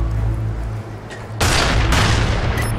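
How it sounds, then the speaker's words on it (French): A grenade in Call of Duty Black Ops bursts with a sudden loud, broad blast partway through, its roar holding to the end after a lower rumbling lead-in. "La grenade"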